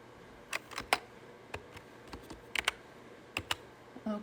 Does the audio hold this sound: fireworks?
no